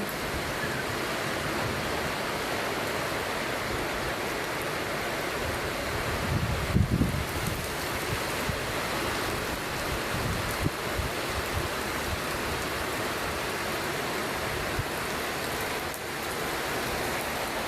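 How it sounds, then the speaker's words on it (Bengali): Steady rain heard from an eighth-floor balcony, a continuous broad wash of falling water with a brief louder gust or splash near the middle, otherwise even and uninterrupted. "তাই বারান্দায় দাঁড়িয়ে একটু বৃষ্টি উপভোগ করছিলাম।"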